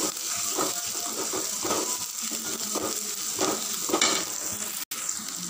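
Onions soften in hot oil in a pan for a spicy mutton gravy, crackling and hissing steadily while a spoon stirs them in repeated scraping passes; close and fairly loud, with no speech.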